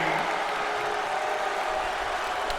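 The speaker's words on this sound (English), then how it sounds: "What a cheer for the champion." A wrestling crowd cheers for the European champion at an N.E.W. Brawl event, a dense, steady roar of voices and clapping filling the whole stretch at constant loudness.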